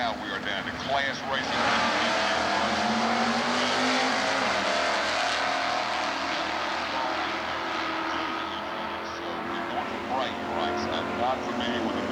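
A 1969 Nova and a 1969 Camaro, both H stock automatics, race in NHRA stock eliminator drag racing in Atlanta, 1992. Loud, sustained V8 engine roar rises and holds across the run while an announcer talks over it.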